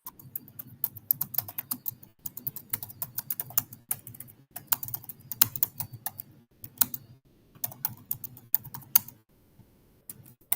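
Rapid typing on a computer keyboard while entering text into ChatGPT, with irregular bursts of close, crisp key clicks lasting the whole stretch, pausing briefly now and then, with no talking.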